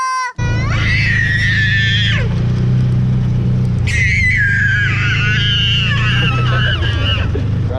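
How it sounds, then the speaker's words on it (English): A modified Yamaha Rhino side-by-side pulls away on a family ride, its engine droning steadily up close with rising, whining revs that drop off and climb again as it gathers speed. "this is technically our first ride in the new modified Rhino"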